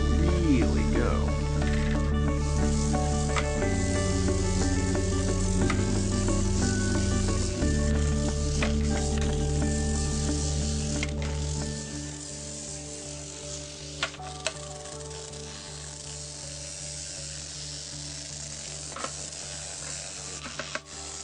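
A toothbrush bristlebot driven by a small vibrating battery motor, giving a steady close buzz with tonal hum that shifts pitch as it moves and fades partway through, with scattered faint clicks.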